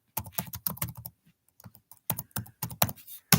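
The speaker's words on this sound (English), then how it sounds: "So we hear you like slamming on your keyboard." Loud, fast typing on a computer keyboard, with clusters of sharp clacking keystrokes broken by brief pauses, close and with no voices.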